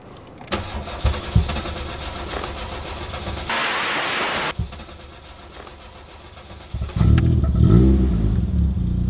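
A warm Volkswagen Golf 2 GTI 16v engine cranks and starts, settles into a low idle, is interrupted by a brief hissing burst, then revs up loudly near the end.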